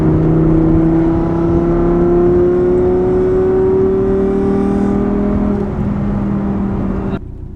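A rebuilt, previously blown-up V10 Audi R8 engine drones steadily while cruising in fifth gear near 4,000 rpm, a loud close interior hum with a slowly rising pitch that eases off near the end.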